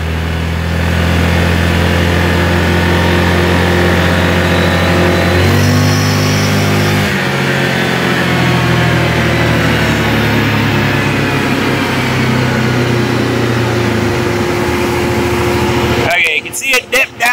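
A 2019 Yamaha Grizzly 700 ATV engine hums steadily just off idle and then rises toward quarter throttle with shifting tones, loud and close, before a burst of wind or handling noise at the end.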